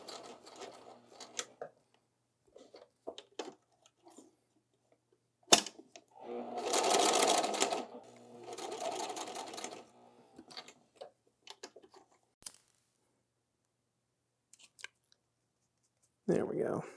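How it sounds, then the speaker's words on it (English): A sewing machine stitching straps for homemade Ghostbusters prop goggles, two short bursts of steady whirring mid-way, surrounded by scattered clicks and handling noises. "this is how Yaya finishes all of her seams"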